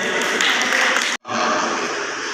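Dense, loud applause fills a university graduation ceremony hall at the University of Education Vehari campus, breaking off briefly in a sharp gap before resuming just as steady.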